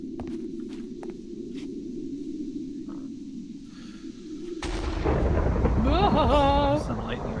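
Thunder in the video game TerraFirmaCraft, a low steady rumble through the first half, then a louder burst with rain-like noise and rising tonal game sounds near the end, no talking.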